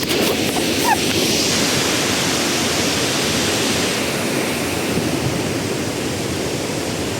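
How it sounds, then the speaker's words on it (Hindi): Waterfall in Coorg, Karnataka, a dense, loud, unbroken roar of falling water that stays steady for the whole stretch with no other sounds standing out. "वो उधर से पानी इधर से गिर रहा है"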